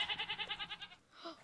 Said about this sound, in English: Charlie, the goats are so pretty.